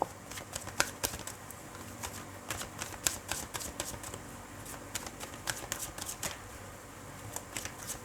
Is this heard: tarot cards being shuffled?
yes